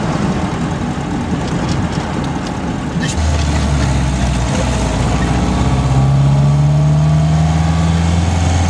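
An Alvis Firebird classic car with a Speed 20 beam-axle chassis drives under load, its mid-pitched engine note holding steady and then rising as it pulls harder, with people talking over it.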